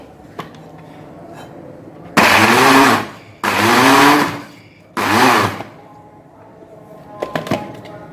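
An electric chopper whirs in three loud bursts of a few seconds each while chopping fresh ginger and garlic cloves, with quieter gaps and faint kitchen clatter between.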